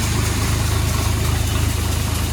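A 2011 Swaraj 744 tractor engine idles steadily at about 1000 rpm, a constant rumbling drone with an even pulsing throb and no voices.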